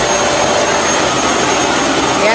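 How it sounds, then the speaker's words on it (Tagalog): A vacuum cleaner being tested after assembly runs with a loud, steady, high-pitched motor whine and roaring airflow from start to end, close by. "i-assemble na po ni Idro itong vacuum at maglilinis po"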